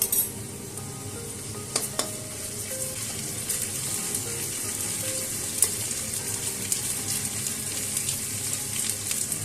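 Onions sizzling and frying in a pan with ginger-garlic paste for a yam and prawn curry, a steady close hiss with occasional clinks of stirring, no talking.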